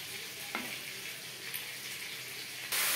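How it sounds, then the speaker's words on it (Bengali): Bay leaves and spices frying with stirring in a pan over a low flame, a steady soft sizzle with a few faint scrapes, ending in a sudden louder burst of hiss. "লো ফ্লেমে 2-3 মিনিট মশলার সাথে তেজপাতা নাড়াচাড়া করে নেব।"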